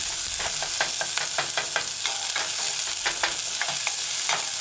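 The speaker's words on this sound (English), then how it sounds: "add crushed garlic and stir in." Crushed garlic stirred into onions and seasoning sautéing in a hot pan, a constant close sizzle with repeated scraping strokes of a utensil, no voices.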